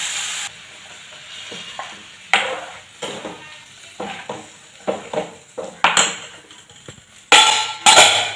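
Curry simmering with curry leaves in a pan as coconut is poured in, heard as repeated stirring scrapes and clinks of a utensil against the pan over a soft bubbling sizzle, close and fairly loud.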